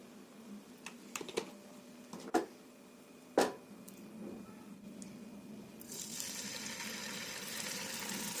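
Chicken pieces frying for butter chicken masala make a soft, steady sizzle with scattered crackles and a few sharp clinks of a utensil, then a louder, broader hiss of cooking toward the end, with no talk.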